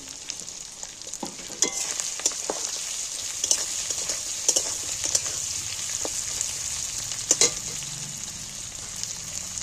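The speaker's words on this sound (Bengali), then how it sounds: "কাটা টমেটোগুলো তুলে দিই" Chopped tomatoes sizzle in a hot pan, a steady bright frying hiss with scattered crackles and occasional stirring scrapes, close and continuous with no voices.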